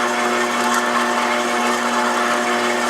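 A stand mixer kneading brioche dough made with sourdough culture, a steady, loud motor whine with a constant droning hum and no pauses or talk.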